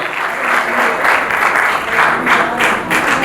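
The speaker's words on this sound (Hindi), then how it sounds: "मैं चाहूंगा जोरदार तालियां हो जाए उनके लिए और मंच पर आ जाएं।" Audience applause at the Bhojpuri Industry Premier League Season 4 player auction, a dense, steady wash of many hands clapping that swells in waves for a few seconds, with no speech over it.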